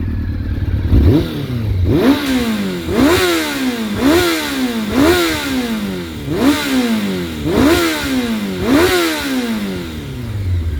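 A 2000 Honda CBR F4 600 sport motorcycle is revved repeatedly up close. About eight sharp throttle blips rise and fall in a regular rhythm over a clattering idle.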